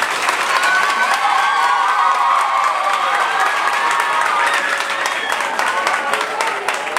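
Audience applause in honour of Louis Diacroix at a tribute event in Gonaïves, steady and dense for the full stretch with scattered cheers and voices mixed into the crowd.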